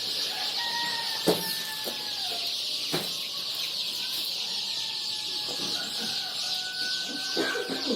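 Rhode Island Red and Australorp chickens cluck at a hatchery brooding house, with scattered calls over a steady hiss and a few sharp knocks, moderately close.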